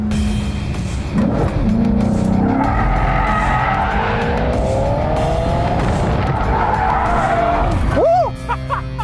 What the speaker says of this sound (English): And that is what we call a spin out.